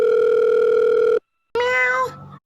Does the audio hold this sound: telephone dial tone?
yes